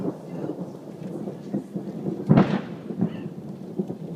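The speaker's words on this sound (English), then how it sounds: "there's a really bad thunderstorm coming." A heavy thunderstorm outdoors, with a sharp, loud crack of thunder over steady rain and low rumbling.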